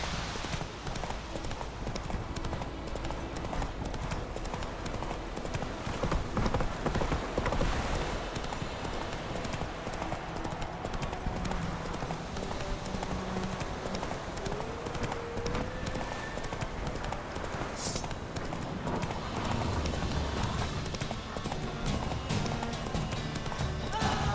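Roach, a horse in The Witcher 3, gallops with steady rapid hoofbeats over a busy game soundscape, with occasional whinnies; a voice speaks briefly over the running.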